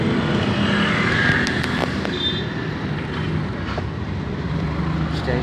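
A Yamaha Mio GT scooter engine, running after a starter repair, gives a continuous close, loud rumbling drone with a few sharp ticks mixed in.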